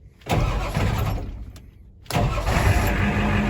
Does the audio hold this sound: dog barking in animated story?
no